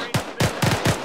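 Four sharp, loud gunshots from a military video game, fired in an irregular rhythm at close range, each with a short echoing tail.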